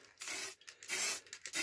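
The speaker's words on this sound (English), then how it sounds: "I'm just going to spray the full piece" An aerosol can sprays gloss paint over a plywood scroll-saw cut-out of a tribal eagle, sounding as several close, loud hissing bursts separated by brief pauses.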